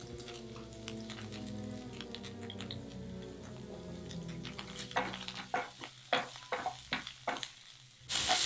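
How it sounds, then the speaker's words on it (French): A carrot hits hot oil for a Chinese crepe filling, giving a soft steady sizzle that turns into sharper crackles and stirring clatter toward the end, with no voices. "À nouveau sur l'huile chaude, on ajoute la carotte."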